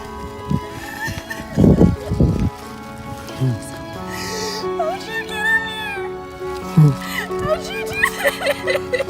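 A horse whinnies in short bursts amid background chatter and a steady hum, with other animal calls and voices mixed in.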